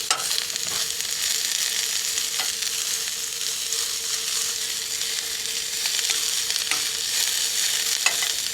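Pre-cut onions sizzling steadily in a frying pan over a propane stove in a 1997 Land Rover Defender 110, a constant bright hiss with faint occasional ticks, close and continuous.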